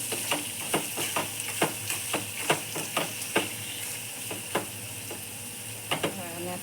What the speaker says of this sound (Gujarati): ચિકનને નાના નાના પીસ કરીને રાખ્યા છે એની અંદર આપણે અંદર નાખી દઈશું.